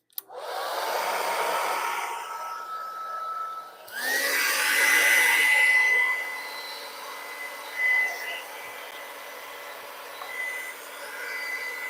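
A hair dryer blows steadily on a painting during a live paint session, loud and continuous for the whole stretch, briefly dipping and restarting partway through with a whining tone, with no talk over it.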